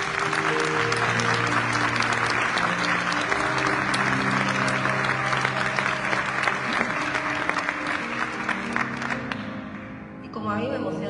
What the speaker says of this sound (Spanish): Un aplauso grande para ellos.